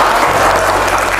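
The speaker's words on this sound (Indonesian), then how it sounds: "Tepuk tangan untuk kelompok C." Steady, loud applause for a group of children at a Quran school prize-giving, continuous clapping from a crowd close by with no break.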